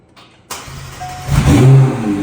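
A McLaren 720S engine cranks and catches after a quiet pause, then revs up with a rising, loud roar that holds and settles into a fast idle. No one talks.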